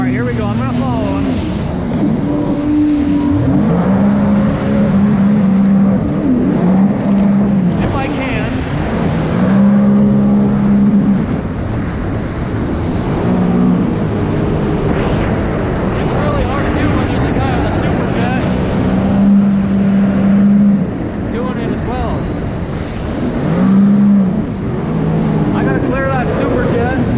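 Yamaha jet skis, a three-cylinder Waveraider and a Waveblaster, racing across open water, their engines whining and surging loudly in rising and falling pitch as they chase each other, with a rider talking over the roar.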